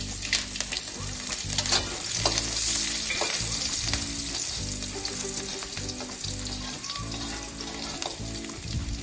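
Mustard seeds, garlic and chilies fry in about four spoons of hot oil for a dhani papad chevdo, giving a steady, close, dense sizzle with bright crackles and spits throughout and no talk.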